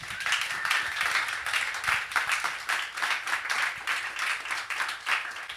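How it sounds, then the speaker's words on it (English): An audience gives a round of applause at a July 2014 art show, a sustained, fairly loud wash of many hands clapping that carries on evenly throughout with no talk over it. "Guys, if you could please give Nikos a round of applause."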